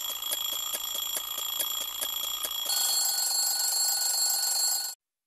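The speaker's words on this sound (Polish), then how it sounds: "Budziki! Dryń," Electronic alarm beeping in rapid repeated pulses, then switching to a continuous shrill ringing that cuts off abruptly.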